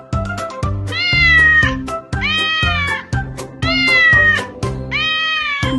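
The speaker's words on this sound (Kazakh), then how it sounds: "Дұрыс, бұл мысық." A cat meows four times in a close, loud, drawn-out series, each call rising and falling, with short gaps between.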